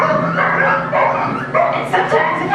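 Sled dogs in a harnessed team bark and yip excitedly in a busy overlapping chorus, with whimpers mixed in, loud and close while a person talks over them.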